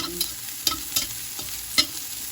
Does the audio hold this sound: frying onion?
yes